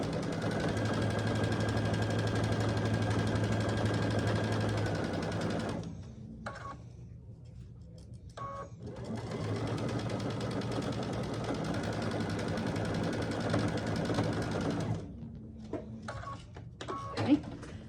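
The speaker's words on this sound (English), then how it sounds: "And then I'm going to start sewing about right in here." A sewing machine stitches a fabric pumpkin door hanger in two long, steady whirring runs, close and moderately loud, separated by a brief stop with small clicks and handling noises.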